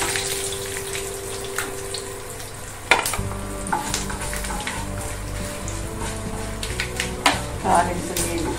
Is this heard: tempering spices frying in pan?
yes